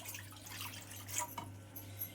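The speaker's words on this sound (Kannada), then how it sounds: "ನಾನು ಇವಾಗಲ್ಲಿ ಒಂದು ಎರಡು ಲೋಟದಷ್ಟು ನೀರು ಹಾಕೋತಾ ಇದ್ದೀನಿ" Water poured from a glass into a cooking pot while making rice vermicelli (shavige), a faint, soft trickle and splash with a few light drips, no voices.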